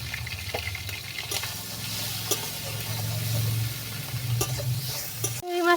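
Prawns fry in oil in a pan, giving a steady close sizzle with stirring scrapes and clinks, and the sound cuts off sharply near the end with a final clatter.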